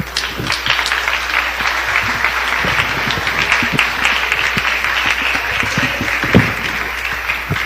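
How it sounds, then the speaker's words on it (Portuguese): A church congregation claps in praise, a dense, continuous patter of many hands filling the room at a lively, steady pace. "Pode se assentar e louvar a Cristo com as palmas"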